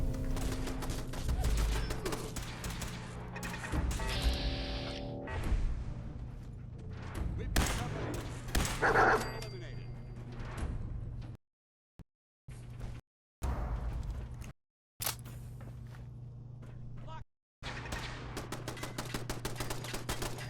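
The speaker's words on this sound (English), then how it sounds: "Fighting turrets again." Turrets in the video game Mad Phil 4 fire in loud, rapid bursts of gunfire, under a steady low game drone, broken by several short dead-silent gaps before the shooting resumes.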